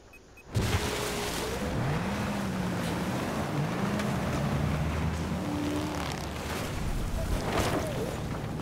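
A steady engine drone of a boat in Battlefield 4 churns continuously with rushing water and wind noise, with varying whining tones underneath.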